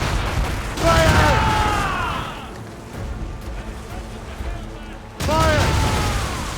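Ship cannons in Assassin's Creed Rogue fire volleys, with a loud booming salvo early and another sudden blast near the end, and voices calling out across the gap between them.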